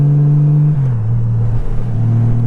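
A Honda Goldwing F6B's flat-six motorcycle engine idles loud and close with a smooth, steady low hum, its pitch dipping then rising slightly as the throttle shifts, with no other sounds.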